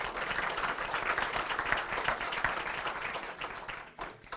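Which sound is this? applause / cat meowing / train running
applause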